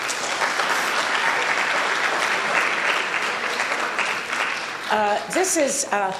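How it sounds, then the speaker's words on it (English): Dinner guests at a unity dinner give a loud, sustained round of applause for an honoree, steady clapping throughout, with a voice speaking briefly near the end as it winds down. "Let's give him a round of applause"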